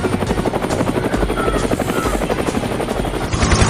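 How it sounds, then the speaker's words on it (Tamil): A toy helicopter flies nearby with a loud, steady rotor chop and motor buzz that pulses rapidly and continuously, swelling slightly toward the end. "டேய் உன் ஹெலிகாப்டர் ஓட்டுறது செம்ம ஜாலியா இருக்குடா."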